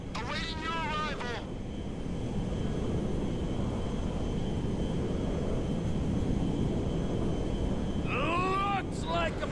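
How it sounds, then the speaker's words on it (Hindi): A jet aircraft roars in GTA V, a steady loud broadband rush that holds through the whole stretch, with a voice speaking briefly at the start and again near the end. "ये देखो गाइस, जेट आ गया। जेट आ गया मुझे मारने के लिए।"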